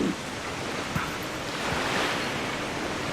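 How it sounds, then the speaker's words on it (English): Flowing river water in the video game Zelda: Twilight Princess streams along as a steady, broad wash of rushing noise, continuous and fairly close, with a faint soft knock partway through and no talking. "This water should flow all the way down to the lake."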